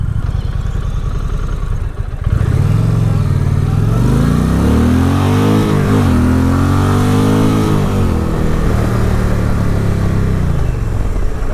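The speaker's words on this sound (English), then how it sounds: "Braking test, and I did feel ABS and traction control kick in there a little bit." An Indian Challenger motorcycle engine revs up and climbs in pitch, then winds down as the bike brakes with ABS and traction control engaging, steady and close throughout.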